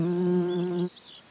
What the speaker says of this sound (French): ses petites ailes doivent battre très vite, environ 75 battements par seconde